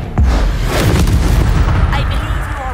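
Confringo and Expelliarmus spells cast in the Hogwarts Legacy video game, a loud booming blast followed by crackling magical bursts that continue throughout, up close, with a voice speaking over them.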